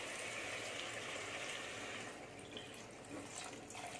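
Rice-washing water pours steadily into a container with a continuous splashing rush, close by and fairly soft, with no speech.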